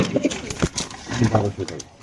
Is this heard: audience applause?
no